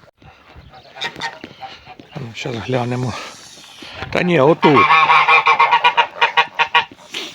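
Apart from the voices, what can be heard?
goose honking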